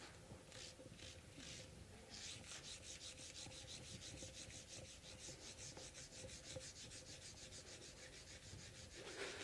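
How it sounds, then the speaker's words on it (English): Close, rhythmic micro-sanding of a travel guitar's finish with fine abrasive, quick back-and-forth strokes that continue steadily, with no talking. "this is the polishing. Technically, it's micro sanding."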